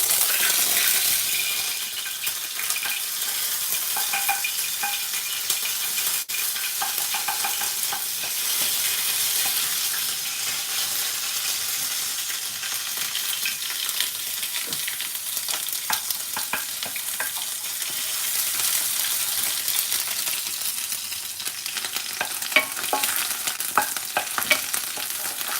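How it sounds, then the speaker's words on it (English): Garlic and ginger paste fries in very hot oil in an aluminium pan, giving a loud, steady, spitting sizzle with crackles and occasional stirring scrapes throughout. "add the garlic and ginger paste, it may spit."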